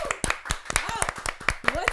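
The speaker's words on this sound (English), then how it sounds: "An extra clap in the background from the man corner." Claps from a man in the background of a podcast recording, sharp rhythmic hand claps repeating about every quarter second, close and crisp, with a voice talking over them.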